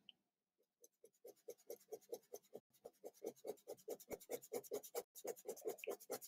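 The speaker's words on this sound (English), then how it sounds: "I use these hatching lines to add the tone." Biro pen hatching tonal lines on paper for an anatomy drawing of a shoulder, a fast rhythmic run of short close scratchy strokes with brief pauses between bursts, quiet and alone.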